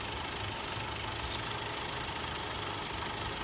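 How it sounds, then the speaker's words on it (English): A running car engine idles steadily during a used-car inspection, a low continuous rumble with a faint knocking texture, constant in level throughout with no voices. "Alright, so car is running."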